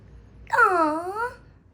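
A pet budgie gives a single drawn-out squawk lasting under a second, close and fairly loud, rising then falling in pitch over a quiet room.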